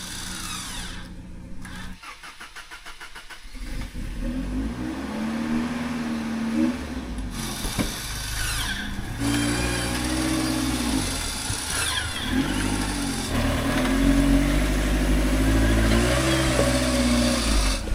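A high-speed winch on a Toyota runs continuously and loudly, its motor whine rising and falling in pitch as it spools, with no pauses.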